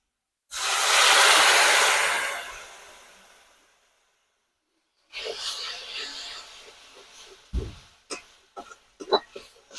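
Cumin powder, spices and a splash of milk sizzle in a frying pan for duck egg korma, a loud hiss that gradually fades over a few seconds, followed by scraping and clinking as the mixture is stirred.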